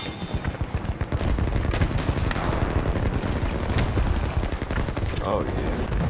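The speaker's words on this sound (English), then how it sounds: "Oh, I'm getting shot at." Rapid gunfire rattles through a Battlefield 2042 beta match, a steady, close stream of automatic bursts and shots layered thickly over one another without pause, with faint voice-like sounds mixed beneath.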